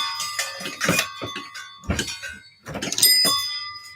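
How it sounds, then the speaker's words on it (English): Several rings from a bell in a barber shop, bright tones struck in quick bursts with short gaps between them, close and fairly loud, with clatter and movement noise around them. "Every time a bell rings"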